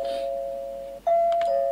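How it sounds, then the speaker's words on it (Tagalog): A house doorbell chimes twice, a sustained electronic tone followed by a brighter second ring, clear and close in a quiet room. "May nagdo-doorbell."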